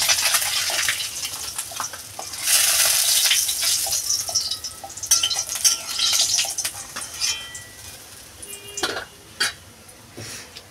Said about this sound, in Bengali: এই দেখেন মাছ ভাজাটা আমার হয়ে গেছে